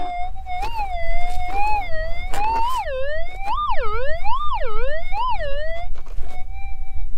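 A Garrett Axiom metal detector with a monoloop coil sweeps over gold in the ground, giving a loud warbling target tone that rises and dips repeatedly like a siren over a low background rumble.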